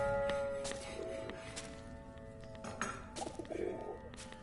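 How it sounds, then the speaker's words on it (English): Faint, low pigeon coos sound in the video game Ad Infinitum, quiet and intermittent against a murky ambient background with occasional clinks and a soft voice. "Little pigeons."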